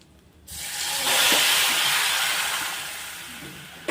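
Pre-boiled Maggi noodles dropped into hot oil already mixed with Maggi masala set off a sudden loud hiss of steam and sizzle that swells, then slowly eases while staying strong.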